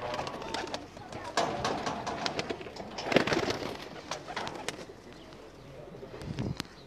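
Pigeons coo and flutter close by in a netted loft, soft throaty calls mixed with wing rustles and scattered clatter, while someone talks over them.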